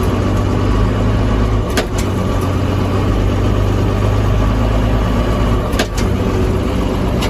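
A 2000 JCB Fastrac 3185 tractor engine runs steadily after an upshift into high range, a loud, continuous low rumble with a couple of brief mechanical clicks and no talking.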